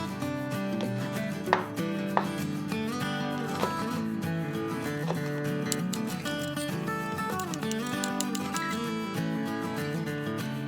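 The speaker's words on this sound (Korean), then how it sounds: "청고추는 어슷하게 썰어주세요." Green chili peppers sliced diagonally with a kitchen knife on a cutting board, a close steady run of crisp chopping taps, with background music playing throughout.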